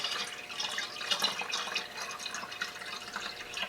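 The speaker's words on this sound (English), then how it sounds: "slowly pour in the antifreeze to top it up" Antifreeze coolant being poured slowly into a jug of distilled water for a Mercedes R129 300SL, a soft continuous trickling and splashing of liquid, fairly quiet and steady with no talking.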